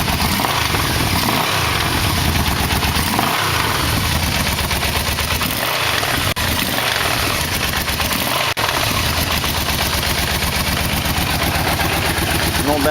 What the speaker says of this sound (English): No bad noises in the motor.